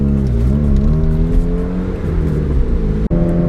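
A project car drives through traffic with a loud, close engine drone and shifting rev tones, road and tire rumble filling the low end, a brief dropout near the end, and no talking.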